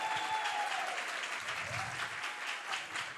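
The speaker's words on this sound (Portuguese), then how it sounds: "Aplauso para os professores, mestres e mestres" An audience gives sustained applause for teachers at a literary talk, many hands clapping in a dense, even wash that sounds somewhat distant and moderate in level, with a faint voice under it.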